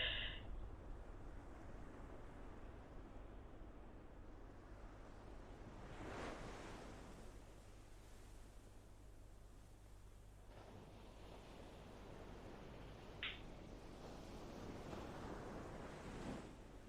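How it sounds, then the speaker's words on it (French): Ocean waves washing onto a shore, a faint steady rushing surf with soft swells and a little wind noise, heard alone without talk. "Oh, l'océan."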